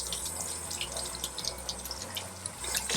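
A lime rinsed under a running kitchen faucet, a steady close stream of water splashing and gurgling over the fruit for the whole stretch with no talk.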